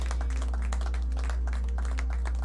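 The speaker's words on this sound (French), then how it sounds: "Quelqu'un peut me donner une main d'acclamation." A church congregation claps together, a quick, dense run of handclaps over a steady low hum.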